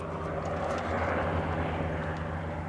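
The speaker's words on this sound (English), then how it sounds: "And that's where the helicopters come in, is they can fly it out." A helicopter engine drones at a steady pitch, moderately distant, with a constant low hum and no talking, over the Crooked River Gorge in 1992.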